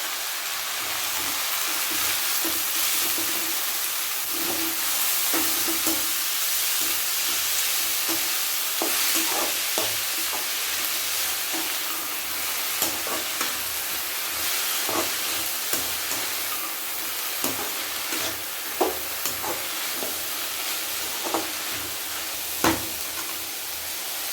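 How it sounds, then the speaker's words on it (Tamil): Banana flower sautéing with turmeric in a pan, a steady close sizzle with frequent stirring clicks and scrapes throughout, no talk. "கொஞ்சம் மஞ்சள் போட்டு இதை நல்லா வதக்கணும்."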